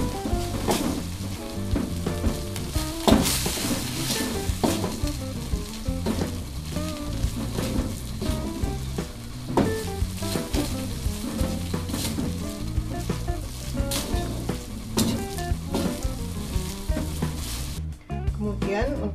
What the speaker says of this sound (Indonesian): masukkan larutan tepung maizena. Aduk-aduk sampai matang.